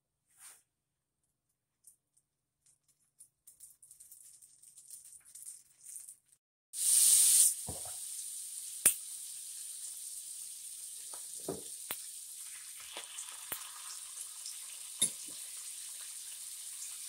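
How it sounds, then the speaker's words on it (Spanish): Salmon pieces dropped into a hot pan burst into loud sizzling, a sharp hiss that settles into steady close frying crackle with occasional pops, after quieter kitchen clatter. "Cuando ya esté bien caliente, le voy a poner los pedacitos de salmón."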